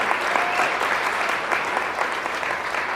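Sustained audience applause for a musician at a Woodstock, Vermont gathering, dense and steady for the whole stretch with no voices over it.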